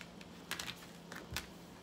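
Tarot cards shuffled quickly by hand during a new moon reading, giving a few short, crisp papery riffles and clicks in quick bursts, fairly faint and close, with no voices.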